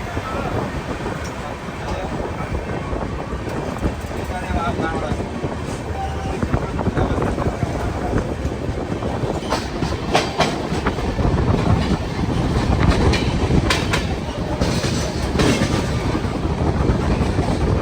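An AC superfast express train rolls along after departing Nellore, a steady loud rumble with rattling carriages, rhythmic clickety-clack and wind rushing past an open window, continuing unbroken throughout.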